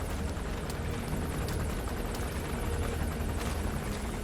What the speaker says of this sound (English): The helicopter being on top of me is not the greatest thing.